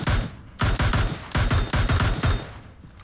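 Automatic gunfire rings out in a first-person shooter video game in several loud, close bursts of rapid shots, separated by brief pauses.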